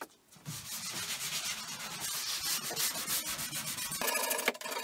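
Sandpaper rubbed by hand on wood while building a Japanese-inspired workshop cabinet with fifteen drawers, rapid back-and-forth scratchy strokes, close and steady, with a brief sharper scrape near the end.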